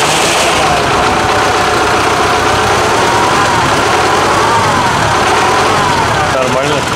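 A tractor-type engine runs steadily inside a garage, a loud, close, continuous idle with a rough knocking undertone and slight rises in pitch, filling the whole stretch with no break.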